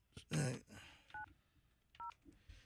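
A phone number is dialed by keypad on a live morning radio show: two short, clear dual-tone beeps spaced under a second apart, with a louder rustle or thump and faint background noise between them.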